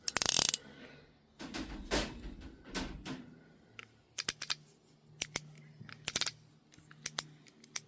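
The cylinder of a Heritage Arms Rough Rider .22 LR single-action revolver spins and clicks: sharp mechanical clicks and ratcheting snaps, a few in quick clusters, with a brief rustle and handling noise early on; close and fairly crisp.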